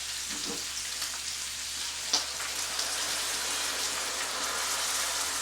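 Chili meat sizzles steadily in a hot pan as pumpkin-flavored beer is poured in, a dense hiss and crackle with a few brief splashes and clinks, no voices.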